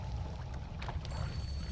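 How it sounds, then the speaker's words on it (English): Water bottle being refilled in the pixel-physics game Noita: a steady, noisy rush of pouring liquid runs throughout, with a faint thin tone entering near the end. "Might need to go back up and refill my water bottle."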